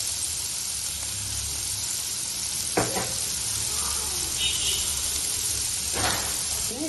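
Onions and beetroot fry in a pan with a constant close sizzle and hiss, with a couple of brief scraping stirs cutting through.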